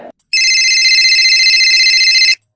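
A telephone rings with a steady, loud electronic tone lasting about two seconds as a call is placed, heard alone after a brief murmur.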